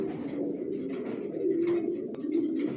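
Steady low cooing from racer pigeons nearby, a continuous murmuring drone with a few faint higher chirps over it.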